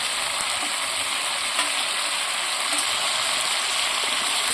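Spiced chicken with masala fries and is stirred in a pan in a home kitchen, giving a steady, close, unbroken sizzle with small scraping stirs throughout and no talking.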